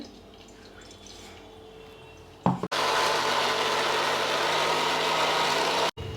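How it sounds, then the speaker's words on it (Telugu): A mixer grinder grinding nalleru (hadjod) chutney whirs to life after a quiet stretch, a loud steady motor roar that runs for a few seconds and then cuts briefly. "మిక్సీ చేసేస్తున్నా ఒకసారి"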